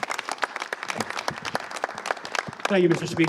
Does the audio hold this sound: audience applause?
yes